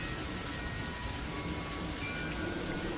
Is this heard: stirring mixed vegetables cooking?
no